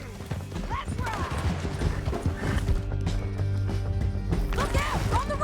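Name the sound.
horses riding, from a video game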